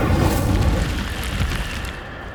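Incendio fire spell bursting in Hogwarts Legacy, a loud, dense boom with a roaring blast that holds steady for about two seconds before easing off.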